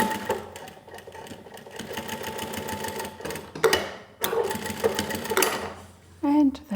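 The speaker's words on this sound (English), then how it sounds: "So there's certainly no issues sewing with 2 layers of upholstery fabric." The Model 1903SX industrial walking foot sewing machine sews two layers of upholstery fabric in loud, fast, clattering runs with a brief stop midway and a squeak near the end; a voice speaks over part of it.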